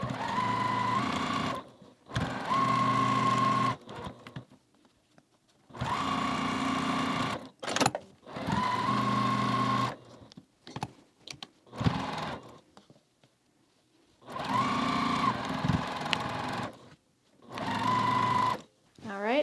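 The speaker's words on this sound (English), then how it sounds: "now we're going to sew that" A sewing machine stitching an Ohio Star quilt block runs in repeated steady bursts of a few seconds each, separated by pauses filled with fabric handling and soft clicks.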